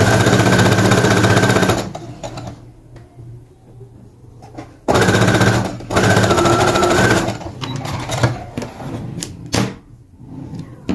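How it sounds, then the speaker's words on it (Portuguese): A sewing machine stitches the other side of a child's shirt with a band collar, running in two loud steady buzzing bursts separated by quieter handling and fabric noises. "Agora, eu costuro do outro."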